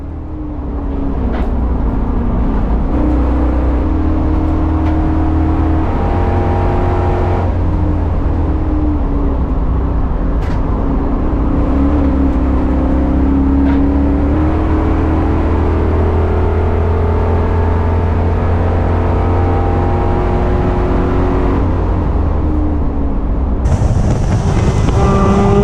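A T56 Chevrolet Caprice race car lapping Buttonwillow, its engine droning loud and close from inside the cabin with rising and falling revs through gear changes and a rush of wind, no speech.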